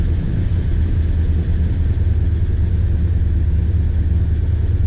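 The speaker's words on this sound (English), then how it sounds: "Okay, I'm completely off the gas now." Engine of a 1965 Plymouth Satellite running steadily with the throttle released, a loud, continuous low rumble close by with no voices.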